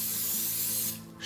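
Coconut oil sprayed onto a hot griddle while cooking halibut: one steady, close, loud hiss that fades out near the end, with no talking.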